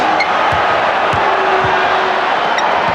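A packed arena crowd at Game 4 of the 1993 NBA Finals, Suns versus Bulls, gives off a steady, loud roar that holds through the whole moment, with faint ball bounces beneath it.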